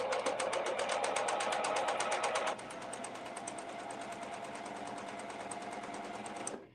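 A serger with differential feed runs steadily, ruffling and puckering fabric with a fast, even mechanical chatter that drops to a slightly lower, quieter pace partway through before stopping, close and alone.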